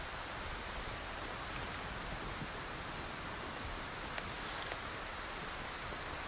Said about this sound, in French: Et là, il fait nuit et il pleut alors qu'il me dit qu'il n'était pas censé pleuvoir.